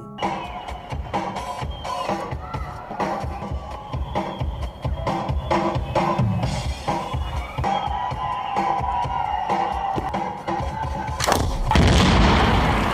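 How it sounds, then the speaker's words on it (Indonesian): Sharp bursts of gunfire over a dense, noisy background, building to a loud boom near the end as a car explodes. "Ivan berhasil menembak mobil itu sampai meledak"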